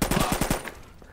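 Rapid automatic gunfire from the Contractors VR shooter game, a fast burst of about six close, loud shots in the first half-second before trailing off into quieter game ambience.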